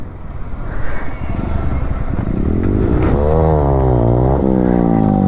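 A Bajaj Pulsar N160 motorcycle revs hard during a wheelie attempt, its engine note climbing loud and close into a rising, wavering whine that holds steady at high pitch.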